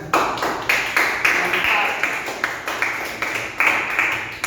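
A high school informatics class claps hands in a series of separate, fairly loud bursts, each with a sharp onset that fades quickly, at an uneven rhythm, giving a scattered sound rather than dense applause.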